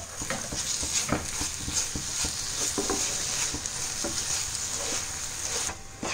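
Grated coconut is stirred into jaggery syrup in a pan, making a close, continuous sizzle with regular scraping strokes of the spoon against the pan, no talking.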